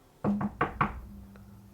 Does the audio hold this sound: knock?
yes